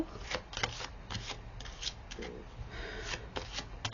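Tarot or oracle cards shuffled and drawn in a reading: a quiet run of crisp riffling card flicks in irregular bursts, close and continuous, with no voice over them.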